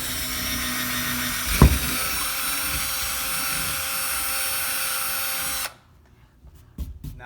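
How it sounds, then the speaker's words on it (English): A power drill whines steadily while boring holes into drywall for shelf anchors, running loud and close for about five seconds before stopping, followed by a few light knocks. "now then I drill those bottom holes"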